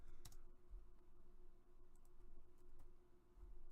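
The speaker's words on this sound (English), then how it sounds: "I'm typing here." Soft, sparse clicks of typing on a computer keyboard come through a faint, quiet room with a low steady hum beneath.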